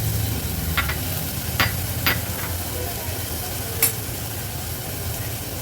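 Green chickpeas and tomato fry in hot oil with spices, giving a steady close sizzle with a few sharp clinks of a spoon against the pan as they are stirred.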